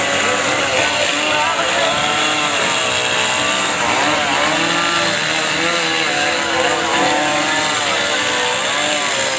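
Several chainsaws drone steadily at a busy outdoor chainsaw carving event, their engines revving and bogging as blades bite into wood, a continuous loud roar with voices faintly mixed in.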